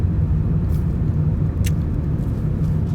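Dense city road traffic with a steady low rumble of passing cars, continuous and moderately loud, with a brief higher hiss partway through.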